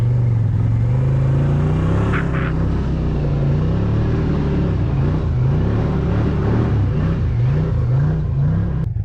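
A Ski-Doo snowmobile engine drones loud and steady while towing a stuck skid steer, its pitch rising and wavering as the throttle works under strain, close and continuous with no talking.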